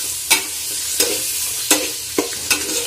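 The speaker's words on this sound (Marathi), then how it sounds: "तर आपण आता या भाजलेल्या मसाल्यामध्ये आपले हे साहित्य टाकणार आहोत." Mixed vegetables for a dhaba-style Kolhapuri dish stirred into masala frying in oil, loud close sizzling with five distinct spoon scrapes spaced evenly.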